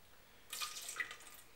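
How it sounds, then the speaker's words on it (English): Tap water runs briefly into a wine glass for a quick rinse, a soft close splash and trickle that starts abruptly and continues steadily for about a second. "I'm going to do a little rinse first"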